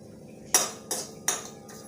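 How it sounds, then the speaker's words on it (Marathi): Poppy seeds roast in a pan with ghee as a spoon scrapes and knocks against the metal in four sharp, evenly spaced strokes over a quiet background. "खसखस आपण चांगली भाजून घेऊया आता"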